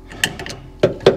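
A Snap-on socket set ratchet clicks in a few quick, close mechanical bursts during rear shock absorber work on a 2007-2015 Mazda CX9, sharp ratcheting ticks separated by short pauses.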